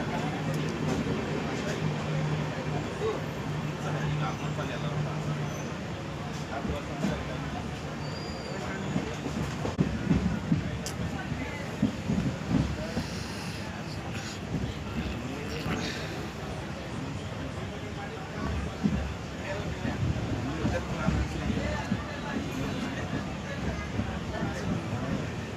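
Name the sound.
Vijayapur Yeshwantpur Express train running near station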